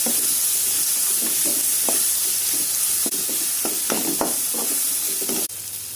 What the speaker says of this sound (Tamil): இப்போ நம்ம அரைச்சி வச்சிருக்கிற இந்த புதினா போட இந்த புதினா வாசனை போகிற அளவுக்கு இதை வதைக்கணும்